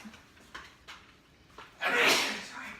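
A few soft knocks, then a single sharp, breathy sneeze bursts out nearby before trailing off.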